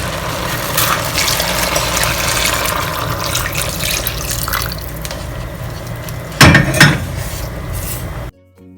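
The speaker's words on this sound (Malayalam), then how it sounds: "ഇനി നമുക്ക് ഈ അരി വേവുന്നതിന് ആവശ്യത്തിനുള്ള വെള്ളം ഒഴിച്ചു കൊടുക്കാം." Water is poured into a pot of rice for Saudi-style mutton mandi: a steady, close pour that swells into a louder gushing splash near the end, with no voices.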